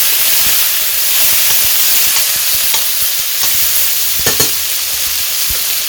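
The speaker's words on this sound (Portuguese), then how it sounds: "Vou deixar isso aqui dourar." Chicken pieces browning in a pan, a loud continuous sizzle and hiss close up, with occasional soft clicks and scrapes of stirring.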